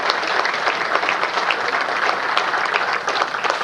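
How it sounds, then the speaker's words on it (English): Steady audience applause for village officials at the Westmont community awards, a dense, even wash of many hands clapping, moderately near and continuous for the whole stretch. "Please give them a round of applause for their leadership"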